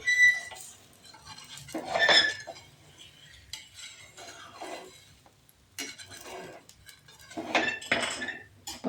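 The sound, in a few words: knife loosening a sweet pudla around the edges of a pan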